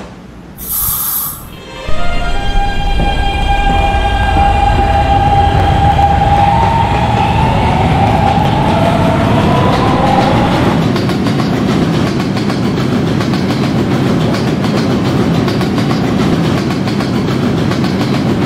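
A Roblox D subway train pulls away and runs along the track, starting with a short burst and then settling into a steady loud rumble with a rising and falling motor whine and rhythmic wheel clatter.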